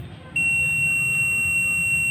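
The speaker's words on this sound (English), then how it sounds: "When I touch these two probes or short these two probes, you can see there is a buzzer or beep sound" A multimeter's continuity buzzer gives a steady, high-pitched electronic tone that starts abruptly when the probes are shorted and holds without a break over a faint background hum.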